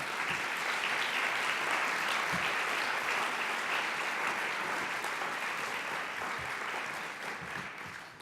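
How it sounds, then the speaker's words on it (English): Conference committee members get a steady round of audience applause in a large hall, even dense clapping that fades slightly toward the end. "get a big round of applause for all your work"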